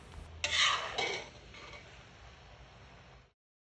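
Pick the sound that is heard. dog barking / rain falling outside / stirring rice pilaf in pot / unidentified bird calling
stirring rice pilaf in pot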